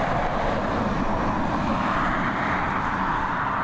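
Ryanair Boeing 737 arriving at Dublin Airport from Rome, heard as a steady, moderately distant jet roar that holds evenly throughout.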